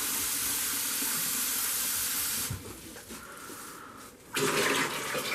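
Water runs steadily into a Varikettle instant hot water dispenser holding about 5 litres, a hissing, rushing fill that drops briefly in level midway and then resumes strongly.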